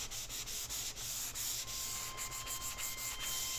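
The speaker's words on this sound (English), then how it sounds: "Don't rush the sanding" Hand sanding on an MDF panel: steady back-and-forth rubbing strokes in a close, even rhythm, continuous and alone with no voices.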